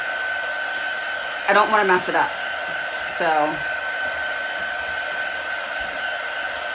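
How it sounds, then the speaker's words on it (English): A heat gun runs steadily throughout, drying chalk ink on a wine bottle with a constant close airflow roar, while a voice speaks briefly over it in two short bursts. "I like to use the heat gun because the ink takes a lot longer to dry."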